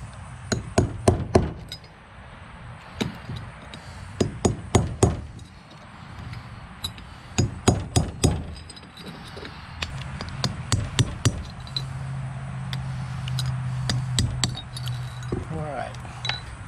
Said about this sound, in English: we'll take a chisel and punch set and drive them old races out